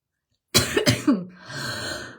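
A single sharp cough followed by a second, then a throat-clearing rasp, close and loud, trailing into a soft breathy exhale in a quiet indoor room.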